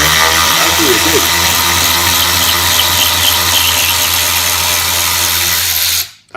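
A 16V cordless long-neck ratchet whines steadily and loudly, grinding and buzzing with a brief squeal as it breaks a bolt loose, running nearly six seconds before cutting off abruptly.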